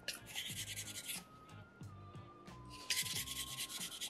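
Sandpaper shaping a soapstone fish carving, close rhythmic rubbing strokes in steady back-and-forth bursts, alone and fairly quiet.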